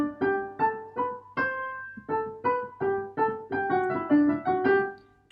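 The two high treble-clef string parts from the opening bars of Mozart's Eine Kleine Nachtmusik play a crisp, rhythmic phrase of short detached notes with brief pauses between groups. The sound is clear and moderately loud, with no other sounds.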